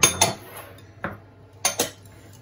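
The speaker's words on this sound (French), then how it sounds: "Et puis on mélange au fouet." A small whisk mixes flour and almond powder in a bowl, giving a few sharp clinks and taps against the bowl's side in irregular bursts, with quiet pauses between.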